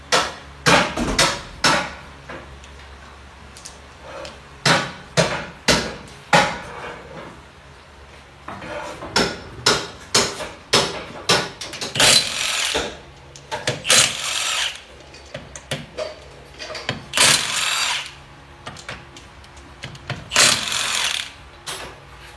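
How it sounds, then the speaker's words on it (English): 36 millimeter socket used to remove an axle stub during a two-wheel-drive conversion; repeated sharp metallic impacts and ratcheting bursts, some in quick clusters, with short pauses between. "now we're using a 36 millimeter socket to remove this axle stub"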